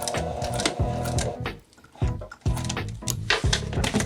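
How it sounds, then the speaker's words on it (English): Sewing machine stitching and back tacking through a jacket facing near the serged edge, running in steady bursts with brief pauses between passes, close and fairly loud with no talking. "As soon as I get past my serge stitching on my facing, I'm going to back tack right here."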